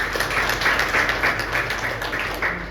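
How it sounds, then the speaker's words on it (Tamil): A church congregation applauds a visitor, a dense, steady burst of many hands clapping in a reverberant hall, sustained for a few seconds. "அவருக்கு ஒரு பெரிய கைத்தட்டு கொடுக்கிறார்"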